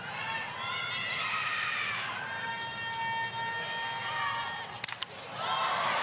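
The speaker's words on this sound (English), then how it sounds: "there was an ooh and ah from the crowd when she swung" Softball crowd at a professional game reacting with a swelling ooh and aah of many voices, loud and sustained over the stadium murmur, with a sharp crack near the end.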